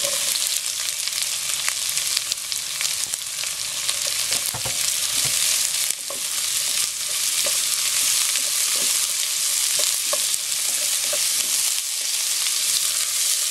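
Onions sautéing in a pan, a loud dense sizzle running throughout with scattered light crackles and stirring clicks, close and steady with no voices.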